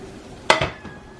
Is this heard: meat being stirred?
yes